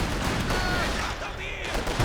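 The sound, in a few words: rifle gunfire in Company of Heroes 2 video game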